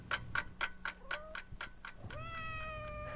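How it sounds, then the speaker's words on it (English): A clock ticks at night with regular, evenly spaced sharp ticks, near and quiet, and a cat meows briefly toward the end. "you might also hear the clock ticking away the night and counting the time till morning"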